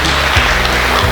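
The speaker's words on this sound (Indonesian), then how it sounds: "Berikan tepuk tangan." Congregation applauding the newlyweds at a church wedding blessing, a steady, loud wash of clapping with no pause across the whole moment.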